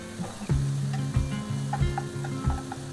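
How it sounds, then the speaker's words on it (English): Brussels sprouts with bacon, garlic, ginger and shallot sizzling in a pan while being stirred, with steady frying hiss and rhythmic scraping strokes about every half second. "Just give them a good stir"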